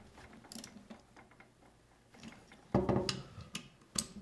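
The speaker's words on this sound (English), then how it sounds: "tighten down my two trigger guard bolts" Quiet metallic clicks and ratcheting taps come from a tool tightening the trigger guard bolts on a Ruger Hawkeye FTW Hunter rifle, with a few sharper knocks in close, intermittent bursts.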